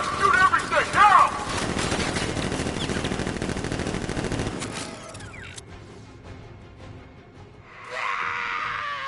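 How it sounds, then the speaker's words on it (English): Rapid bursts of automatic gunfire from guards in a Batman video game, loud and dense for several seconds, with shouting mixed in, then thinning out into scattered mechanical noise and a brief louder burst near the end. "Guard! Open fire! Shoot everything! Now!"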